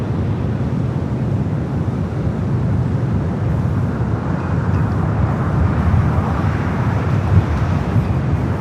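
United Boeing 777 airliner landing on runway 25 left at Los Angeles International Airport, a loud, steady low jet roar with broad rumbling and wind buffeting, holding constant throughout with no voices.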